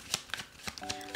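Tarot cards shuffled by hand in a quick, uneven run of soft papery riffles and flicks, about six short bursts close up with no voice.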